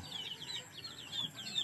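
Two-month-old native chickens in a small backyard coop give soft, high chirping peeps in a repeated cluster, faint and close, with no talking.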